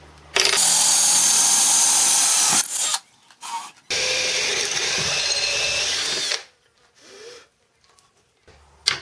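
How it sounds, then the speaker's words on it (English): Two long bursts of a power drill whirring loudly through material, separated by a short pause, with brief clicks and handling noises between. "Let's go ahead and drill a couple holes."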